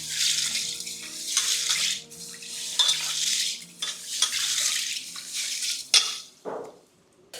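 Tap water runs in bursts into a kitchen sink during washing while cooking, splashing and gushing on and off with occasional clinks of dishes, close and fairly loud.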